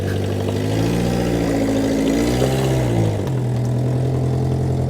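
A Mitsubishi Pajero Junior engine runs steadily near the microphone, then revs and climbs in pitch as the drive engages and it pulls away, with slightly dragging brakes, settling back to a steady hum.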